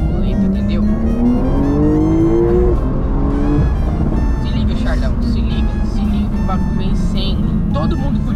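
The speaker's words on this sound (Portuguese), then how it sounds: "Agora, rapaziada, eu vou fazer as trocas de marcha manualmente." A car engine in the Free Fire video game revs up in rising pitch sweeps with manual gear shifts, each shift bringing a sudden drop before it climbs again. It runs loud and steady for the whole stretch.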